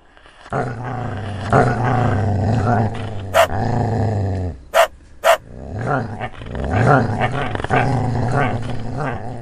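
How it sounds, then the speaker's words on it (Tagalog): A dog growls in low, rumbling bursts with a few sharp barks in between, close and loud. "Kaya pala nag-iingay ito. Hindi napansin ni Mang Romy. Pero nakita ng aso."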